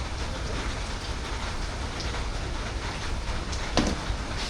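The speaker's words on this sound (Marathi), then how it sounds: "बघतोय तर काय एवढा जास्त खतरनाक पाऊस चालू ह्या कोकणामध्ये" Heavy monsoon rain pours down in Konkan, a dense continuous hiss of drops close by with a brief louder splash near the end and no voices.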